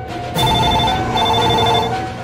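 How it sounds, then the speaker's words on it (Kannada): A telephone rings at night with a loud electronic trill, one long ring repeating its warbling tone close by, with no talking over it. "ಯಾರಪ್ಪ ಇಷ್ಟೊತ್ನಲ್ಲಿ ರಿಂಗ್ ಆಗ್ತಾ ಇದೆ ಆಗ್ತಾ ಇದೆ"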